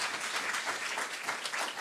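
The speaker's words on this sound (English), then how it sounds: "One more round of applause for our teams today." An audience applauding competing teams at a university startup challenge final, steady dense clapping throughout the short stretch.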